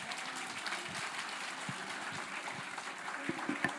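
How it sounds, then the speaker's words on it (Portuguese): A church congregation applauding during a service, a steady dense wash of clapping from many hands, fairly distant and even, with no speech over it. "Aplauda mais forte ao Senhor."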